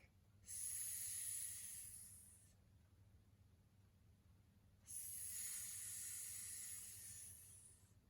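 A child imitates a cobra snake's hiss while holding a yoga pose, two long breathy hisses of about two seconds each separated by a short pause, close and clear.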